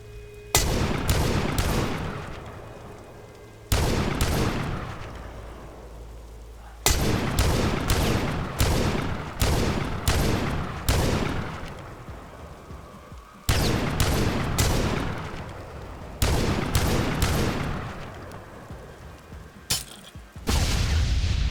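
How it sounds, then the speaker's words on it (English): Shotgun blasts in the video game The Last Stand: Aftermath, loud sharp bursts firing in rapid clusters with short pauses between volleys, each shot ringing out briefly before the next. "Have some fun with shotguns."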